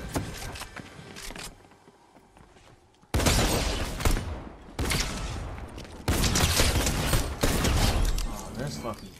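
Fortnite gunfire comes in loud, dense bursts of rapid shots that cut in abruptly after a quieter stretch with a voice, close and punchy throughout.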